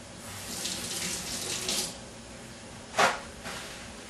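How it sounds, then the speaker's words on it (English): Hands are washed under a running kitchen tap while cooking chicken: a steady flow of water for about two seconds, then a brief louder splash, near and alone. "Let me wash my hand off."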